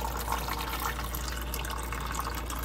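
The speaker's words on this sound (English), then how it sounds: "Okay, and pour a water in." Water poured into a container while making L. reuteri yogurt, a steady faint trickle and splash that runs evenly for a few seconds over a low background hum, with no talking.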